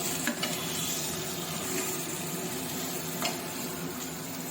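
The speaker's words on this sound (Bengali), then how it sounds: "এটা মিডিয়াম টু হাই ফ্লেমে দিয়ে আমি মশলাগুলো আর সবজিগুলো বেশ ভালো করে কষিয়ে নিয়েছি" Spices and vegetables sizzle and crackle in hot oil over a medium-high flame while being stir-fried for chicken and vegetable pulao, a continuous close frying hiss with occasional stirring scrapes.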